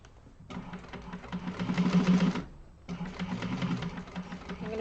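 A sewing machine backstitches a couple of times while sewing an organizer bag, its motor whirring in two bursts separated by a short pause, loud and close with a steady rapid stitching rhythm.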